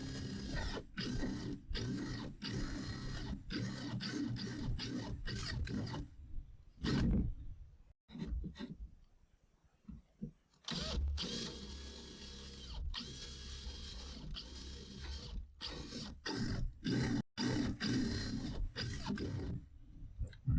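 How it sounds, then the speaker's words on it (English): Step drill boring a pilot-started hole, harsh grinding and scraping in repeated bursts with short pauses between, close and fairly loud. "So back to the step drill."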